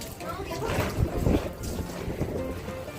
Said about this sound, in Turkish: Rüzgar senden taraf. Hepsini bana doğru uçuruyor.